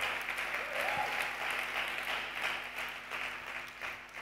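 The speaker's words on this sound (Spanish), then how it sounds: "Ahora sí, dar un fuerte aplauso al Rey." A church congregation claps loudly in honour of God during a Spanish-language service, a sustained wash of many hands with faint voices and hum underneath, swelling slightly then easing toward the end.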